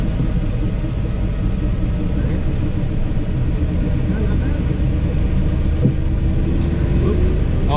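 A 1973 Citroen SM engine drones at low, steady revs while the car turns a slow, tight full circle, a constant rumbling hum from inside the cabin with a brief knock near the end.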